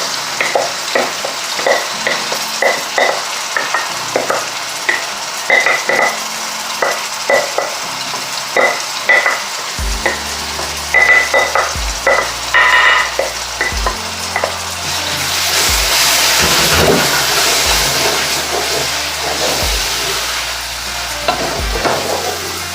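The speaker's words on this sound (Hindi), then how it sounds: "तो चलिए इसमें डालते हैं, हम दाल ऐड करते हैं। तो ये हम डाल रहे हैं दाल।" Urad dal goes into a hot puree in a pan and is stirred, giving a steady sizzle and frying hiss under repeated scraping and clinking of a spoon against the pan. It is close and continuous, with no voices.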